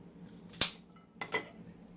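A cigar cutter snips the end of a torpedo cigar to make a V cut: two short, sharp metallic clicks about half a second apart, close and clear in a quiet room.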